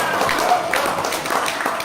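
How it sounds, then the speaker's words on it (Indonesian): Brief burst of audience clapping at a business gathering, mixed with crowd noise and voices talking over it, fairly loud and close. "Tepuk tangan."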